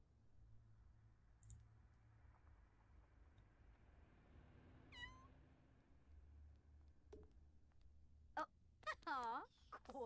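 A cat meows in The Sims 4, with several short, bright, rising cries near the end over a low steady hum and faint clicks.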